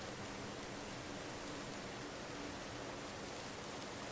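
Steady, dense rain falling continuously, a broad even hiss with no breaks, moderately loud and heard alone without voices.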